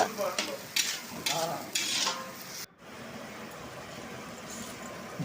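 Onions frying in a pan for a cashew paneer masala curry, with several rhythmic stirring scrapes over a soft sizzle, then a quieter continuous fry after a brief cut.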